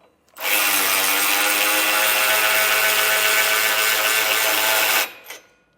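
A power tool whirs continuously for about five seconds at close range as it tightens a factory bolt while rear air springs are fitted on a truck, starting and stopping abruptly.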